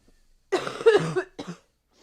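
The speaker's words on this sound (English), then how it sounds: "Cough, cough, cough." A close, harsh coughing fit: a rough burst of a few coughs followed by one shorter cough, then silence.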